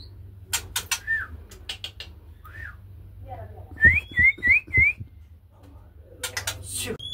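Bright whistled song of a six-month-old Nias white-rumped shama, with rising phrases, including four quick repeated notes in the middle, alongside background voices and other noises.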